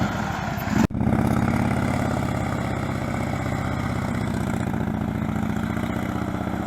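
A motorcycle engine runs steadily on a hot day during slow, tight-control riding practice, with a continuous mid-low drone that holds fairly loud and close after a brief dip near the start.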